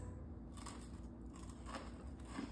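Close crisp crunching as something brittle is bitten, a few sharp crackly bursts over a low steady background hum.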